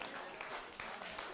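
Crowd applause at a racquetball match in Idaho, a steady dense wash of clapping that holds at an even level through the short span, with a few louder bursts.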